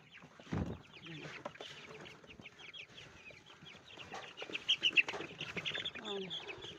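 Backyard chickens and small chicks cluck and peep while being fed, a busy mix of hen clucks and high chirps, close by, with a person talking softly at times.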